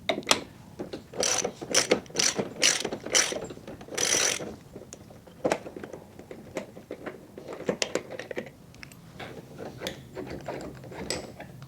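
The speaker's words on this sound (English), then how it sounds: "With a 22mm socket and a ratchet, you can just remove the center nut off the stub axle" A 22mm socket on a ratchet works the centre nut off a go-kart stub axle with rapid, close, mechanical clicking bursts, several quick ratchet runs followed by sparser clicks and handling noises, with no speech.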